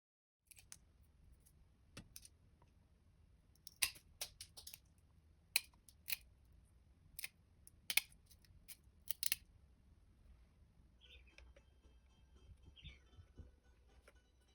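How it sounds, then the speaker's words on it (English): Petal-shaped mosaic tiles being trimmed at two corners with tile nippers, giving a series of sharp, close snips spaced irregularly, some single and some in quick pairs, over a quiet room with no talking. "Now I'm using these tiles that have a petal-like shape. Trim 2 corners of the tile."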